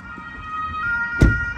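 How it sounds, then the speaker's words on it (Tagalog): An ambulance siren wails steadily, its pitch sliding upward, with traffic rumble underneath and a brief loud thump near the end. "May ambulansya."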